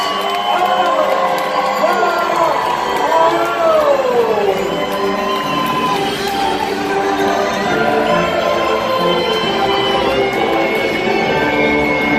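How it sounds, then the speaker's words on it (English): An audience at a Medieval Times jousting show in Buena Park, California cheers and shouts for the knights, a loud, continuous mix of whoops and voices filling the arena. "Band together, my friends, and raise a final cheer for your knights"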